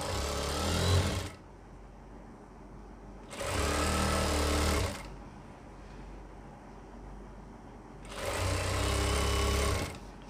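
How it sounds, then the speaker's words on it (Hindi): Sewing machine stitching a baby pant, running in three loud steady bursts with short quiet pauses between them, close and alone. "अब जो सिलाई स्टार्ट करेंगे दोस्तों नीचे से स्टार्ट करेंगे"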